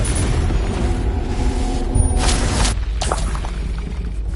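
Confringo fire spell blast in the Hogwarts Legacy video game, a loud booming burst with a crackling, shattering tail amid game sound effects.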